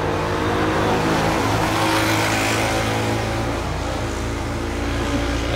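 A Ford Mustang 5.0 engine roars and revs loudly and steadily, a dense, close, continuous growl holding for several seconds without any voices.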